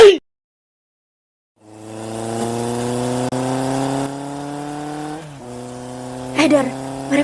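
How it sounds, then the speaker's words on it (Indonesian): Motorcycle engines in the Sakura School Simulator game drone in a steady rising hum after a brief silence, with the pitch shifting partway through and a few louder bursts near the end. "Lo denger kan suara motor-motor itu?"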